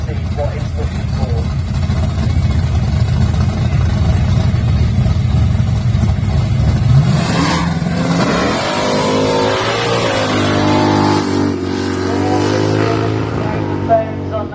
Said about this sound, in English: We've got 71 Plymouth Duster all fired up.